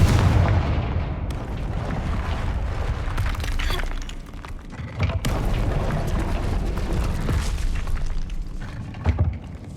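A Confringo spell in Hogwarts Legacy sets off a heavy fiery explosion followed by booming blasts, shattering debris and rumbling crackle that stay loud for several seconds, with a fresh burst near the end.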